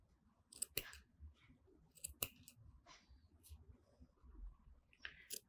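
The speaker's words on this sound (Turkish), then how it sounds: "Tam ortadaki ilmeği kesiyoruz." Scissors snip through knitted angora-blend yarn stitches on a cardigan, a few sharp close cuts spaced irregularly over a quiet room background.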